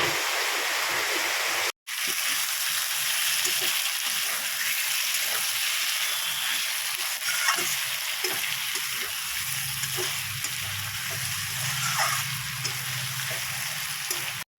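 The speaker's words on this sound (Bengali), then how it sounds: "এই দেখো মাছগুলো হালকা করে একটু ভেজে নিই" Fish frying lightly in hot oil in a home kitchen, a steady close crackling sizzle that runs almost the whole time, broken by a brief gap near the start, with a low hum joining later.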